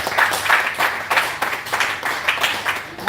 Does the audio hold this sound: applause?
yes